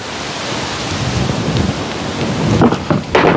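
A thunderstorm with rain and wind fills the scene with a steady hiss of rainfall and low rumbling, swelling into louder gusty bursts near the end, with no voices.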